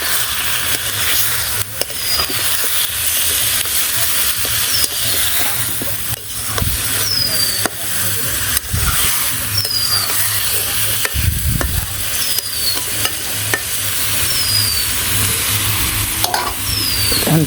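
Chicken curry being stirred and sautéed in a pan with a little water, a steady close sizzle and hiss with scraping stir strokes running throughout, no talking.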